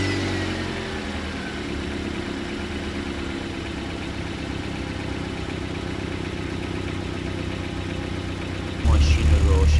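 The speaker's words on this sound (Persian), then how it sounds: "ماشین رو روشن کردیم، ببینیم چه تأثیری داره" A Samand car's engine runs at a steady idle, giving a continuous low hum that holds level for several seconds and swells slightly louder toward the end.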